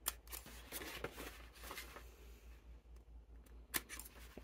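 Scissors snip into sleeve fabric at the outside edge toward a pivot point, with a handful of sharp, close cuts spaced irregularly over a steady low hum.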